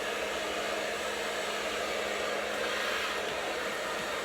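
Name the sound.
blow dryer drying hair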